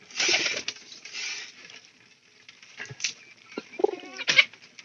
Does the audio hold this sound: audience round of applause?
no